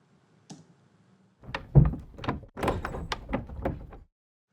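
A latch clicks, then a door slides along its track and lands with a series of sharp thuds and impacts, close and dry.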